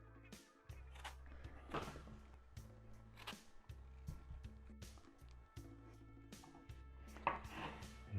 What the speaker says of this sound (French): Je partage mes pommes.